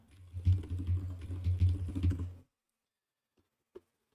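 Rapid typing on a computer keyboard during a speed typing test, a dense run of close keystrokes that stops abruptly midway, then near silence with one faint click.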